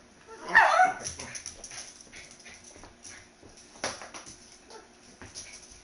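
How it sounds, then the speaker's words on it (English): A dog barks and whimpers indoors during a game livestream, one louder yelp near the start followed by softer whines and whimpers, close to the mic. "I love my dog."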